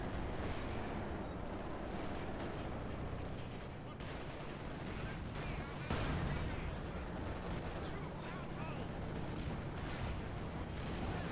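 Field guns in a video-game battle fire in dense, overlapping booms and rattling volleys, a continuous barrage of gunfire under faint voice chat.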